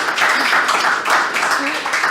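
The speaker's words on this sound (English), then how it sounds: "Please give Gillian a big round of applause" Studio audience applause for a guest named Gillian on a talk show, a steady wash of clapping lasting a couple of seconds with a faint voice underneath.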